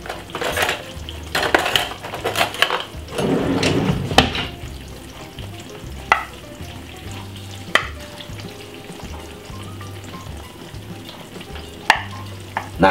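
A spicy cheesy vegetarian potato bake sizzling and bubbling just out of the oven, with a steady crackle, a few sharp metallic clinks of pan and utensil, and no talking.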